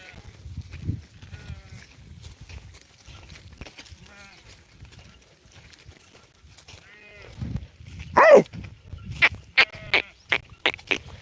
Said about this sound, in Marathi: मेंढी ना ती